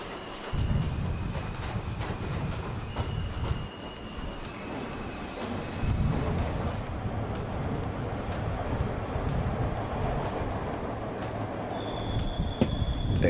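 An old Toronto subway train running, a steady low rumble of wheels and carriages with intermittent metallic squeals and clanks, heard close and continuous.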